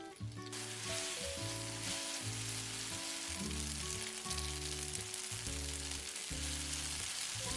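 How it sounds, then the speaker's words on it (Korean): Garlic confit and pepperoncino sizzle steadily in a heated pan, a continuous bright crackling hiss with soft background music underneath. "달궈진 팬에 만들어둔 마늘콩피를 듬뿍 넣고 페페론치노도 좀 넣어주었어요"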